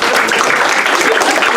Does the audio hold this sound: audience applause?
yes